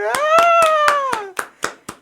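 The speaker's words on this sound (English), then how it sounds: "get round of applause for JB" A small group claps a round of applause for a returning podcast co-host, quick rhythmic claps with a loud drawn-out vocal exclamation over the first half, then a few scattered claps alone.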